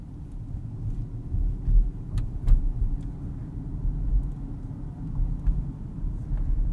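Interior of a 2022 Rolls-Royce Cullinan cruising down a street, a low steady rumble of road and engine noise with faint occasional ticks, calm and subdued, no voices.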